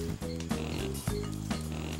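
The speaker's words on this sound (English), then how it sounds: "Those sound like pigs, right? But they're not. Those are ground lemurs." Repeated low pig-like grunts from ground lemurs, several short calls in quick succession, fairly close and loud over a constant background hum.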